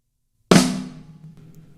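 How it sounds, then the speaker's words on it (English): A single sharp snare drum hit, bright crack followed by a short ringing decay, close and alone. "the first drum that we're hitting in this drum fill is the snare drum"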